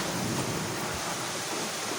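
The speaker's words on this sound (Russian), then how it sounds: "Уже к нам дождь капает." Heavy rain pours steadily with a deep rumble of thunder during a storm with wind and hail in Kurgan, close and continuous, with no talking.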